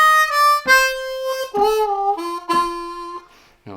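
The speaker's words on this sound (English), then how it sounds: "we've got a nice glissando up to the 6 blow" Blues harmonica lick on a Bb harmonica, with a glissando sliding up to the 6 blow, played alone as a few bright, clear phrases with short gaps.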